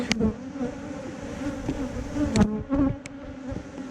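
Honey bees buzz steadily and densely around an opened surprise swarm hive during an inspection, with a few louder close passes over the hum and no speech.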